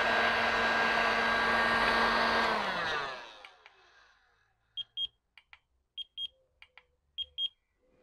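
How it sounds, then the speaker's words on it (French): An old heat gun blows with a steady whirring roar for about three seconds, then winds down to silence. A series of short, high electronic beeps follows, irregular and fairly quiet. "mon décapeur thermique est sûrement pas idéal, hein, c'est un vieux truc"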